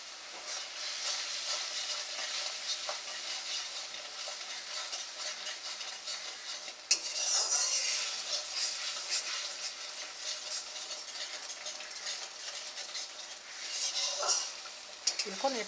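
Spice paste with salt and turmeric stir-fries for a pomfret fish curry, giving a soft continuous sizzle with occasional spoon scrapes and clinks against the pan, fairly quiet throughout.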